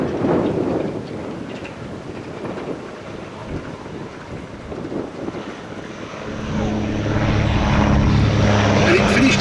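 A vintage de Havilland aeroplane flies past at the Shuttleworth air display. Its propeller engine drones steadily, partly under wind noise and an announcer's talk over the public address, and grows louder toward the end.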